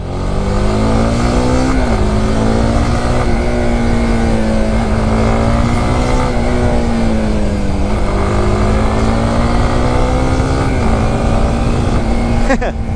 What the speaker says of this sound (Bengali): স্পোর্টস বাইকের খেলা হইলো এই যে এটা, রাস্তা একটু ভেজা।